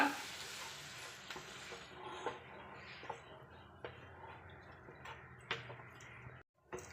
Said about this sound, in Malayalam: ഇതിലോട്ട് കുറച്ച് പാല് ചേർത്ത് കൊടുക്കാം നല്ലതുപോലെ മിക്സ് ചെയ്ത് കൊടുക്കുക